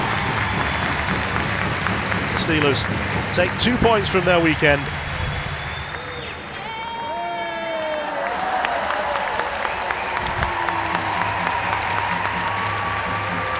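A 7,000-strong ice hockey crowd at a Sheffield Steelers versus Cardiff Devils EIHL game applauds and claps at the end of the match, a steady wash under a commentator's voice.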